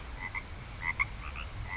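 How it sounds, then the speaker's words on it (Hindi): Frogs croak repeatedly at night just after rain stops, with a steady high chirring of crickets underneath, a continuous moderately faint outdoor chorus. "अब झींगुरों को और मेंढकों की आवाज आनी शुरू हो गई"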